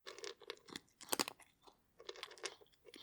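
Dry freeze-dried kibble crunched from a plate, a run of close, irregular bites and chews in short bursts separated by brief pauses.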